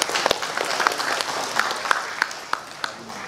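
Scattered rhythmic clapping from a seated audience at a union leadership inauguration ceremony greets a newly named board member, with individual claps standing out in a moderately loud, steady patter.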